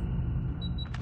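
A magazine being changed on an AGR 556 rifle in COD Mobile: a quick pair of sharp mechanical clicks near the end, over a low steady background rumble.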